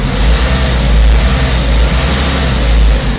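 A 2002 Ford Focus ZX5 with a rough idle and a head gasket problem runs close to the microphone, its engine giving a loud, steady low rumble that swells slightly as the throttle is opened, with no voices over it.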